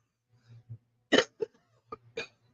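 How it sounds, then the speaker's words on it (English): A person clears their throat in a few short, close bursts, with soft low breathy sounds before and a final rasping clear at the end. "Clear my throat."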